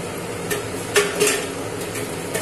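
Katla fish pieces going into a hot pan with butter for a light fish curry with potatoes, giving a close sizzle marked by a few soft thuds and utensil clinks, with no one speaking.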